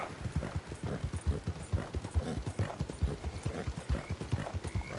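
Horse hooves gallop in Red Dead Redemption 2, a rapid, rhythmic run of thudding clip-clops near and steady, with a brief whinny mixed in.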